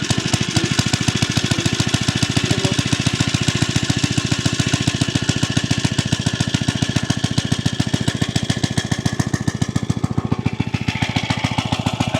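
Kerosene-fuelled engine running outdoors, a loud, close, steady rapid chugging knock that holds an even rhythm throughout.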